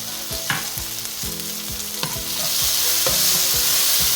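Tomatoes sautéing in a hot pan with ginger while cooking ginataang tilapia, a steady sizzle with repeated scraping stirs of a utensil, the frying growing louder toward the end.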